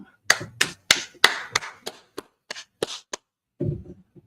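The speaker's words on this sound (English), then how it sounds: "clap it up" Sharp claps ring out in an uneven run of about a dozen hits, loud at first and then sparser, followed by a softer thud.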